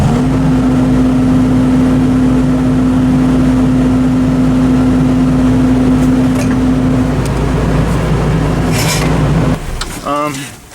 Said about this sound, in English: So we're gonna lower the bucket.